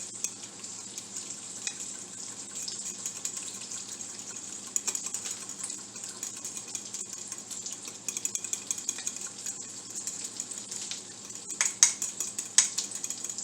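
Egg sandwich filling being stirred and mashed in a bowl, with soft continuous wet scraping and scattered light clinks of the utensil against the bowl, close and fairly quiet, no talking.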